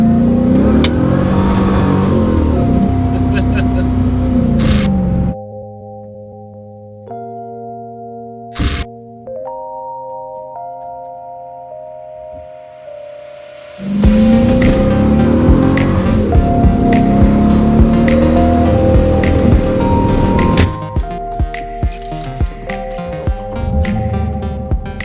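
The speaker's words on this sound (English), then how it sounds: "We're back in the Corvette. This isn't fast enough, but it does sound good." A Corvette engine running and revving, loud and close from inside the car, with a long stretch of steady tonal chimes in the middle before the engine roar returns strongly.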